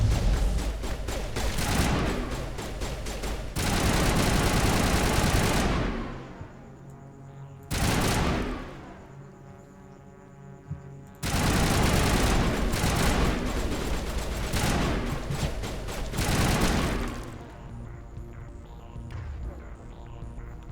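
Enemies in Mass Effect fire in loud, sustained volleys that keep overlapping, stopping briefly twice before starting again over a low hum.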